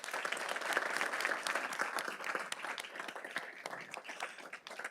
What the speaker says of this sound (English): we want to give them a round of applause here for all their hard work